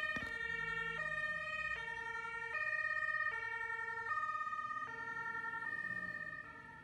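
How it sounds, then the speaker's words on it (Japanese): A German ambulance's two-tone siren alternates steadily between high and low notes, loud and close, with a faint rumble of traffic underneath. "ドイツの救急車"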